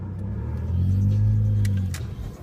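A manual transmission car driven by a learner rises in a low engine rumble and revs briefly, heard from inside the car, with no speech.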